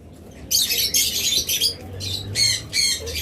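A caged pet bird rising off its eggs lets out a series of loud, harsh squawks in short bursts, close by, with quieter chirps and a low hum between them.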